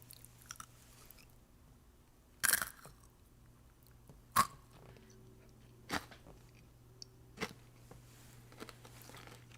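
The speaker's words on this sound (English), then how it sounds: "so you can hear the full crunch of this" Crunchy Japanese snack bitten and chewed, sharp close crunches at irregular intervals, one loud bite followed by several smaller ones over a quiet background hum, no talking.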